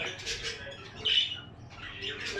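A female Texas clearbody budgie chick squawking indoors, a few faint, short raspy calls with small chirps between them, no speech.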